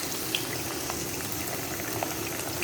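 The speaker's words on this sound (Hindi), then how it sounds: "अब हम इसके अंदर डालेंगे जो मेरे पास चॉप की हुई प्याज थी वो।" Chopped onions sit in hot oil in a kadai, giving a steady, bubbling sizzle that is close and even throughout, with a couple of faint clicks and no voices.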